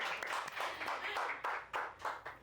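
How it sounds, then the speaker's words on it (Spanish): A small studio audience at a podcast taping gives a round of applause, a brief burst of fairly soft, distinct claps. "Un aplauso, por favor, a todos."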